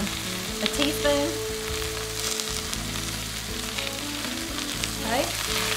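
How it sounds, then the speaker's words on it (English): Spinach wilting with onions and olive oil in a hot pan, sizzling steadily and close, with occasional stirring clatter and scrapes over a constant frying hiss. "Put it in there with those onions, and put a little olive oil in it."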